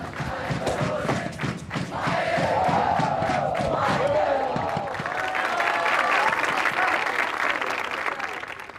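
Crowd at an Eton Fives match in Kuala Kangsar, Malaysia, cheering and clapping raucously in continuous waves of applause and shouts, with thuds of play mixed in.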